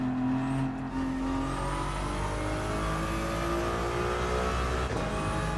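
A race car engine in Gran Turismo 7 drones and rises through revs, its tone climbing and shifting as it accelerates, loud and continuous with no voices.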